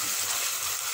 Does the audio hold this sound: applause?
no